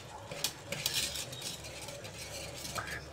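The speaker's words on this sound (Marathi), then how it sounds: "घट्ट होईपर्यंत असंच हलवत राहायचे।" A millet flour mixture is stirred in a pot with a spoon, giving soft, faint scraping and occasional light clinks against the metal, close by and unaccompanied.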